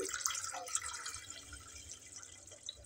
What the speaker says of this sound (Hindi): तीन कप पानी डाल देंगे हम